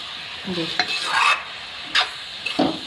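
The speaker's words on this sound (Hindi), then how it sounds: "अब हम इसमें डालेंगे ये हरा धनिया चला देंगे सब्ज़ी को" Cabbage and potato sabzi with fresh coriander stirred in a pan: a spoon scrapes and clinks against the metal in a few quick strokes over a soft sizzle, close and distinct, with no voices.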